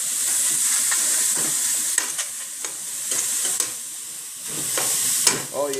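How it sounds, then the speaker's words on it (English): A steak sizzles loudly in a hot pan, a dense continuous frying hiss with occasional scraping and clanking as the meat is moved around, recorded up close. "about to drop the steak in right now, like I showed you before. Dropping it in. You hear that sizzle?"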